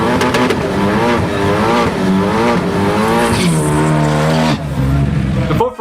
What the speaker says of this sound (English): At number 5, we have the Ford Focus ST.